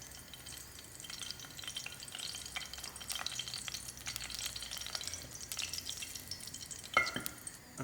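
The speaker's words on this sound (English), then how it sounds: "you can see my cinnamon stick has fried out" A cinnamon stick fries in hot ghee in a pan, giving a steady close sizzle with crackles and small pops throughout, and a sharper spit near the end.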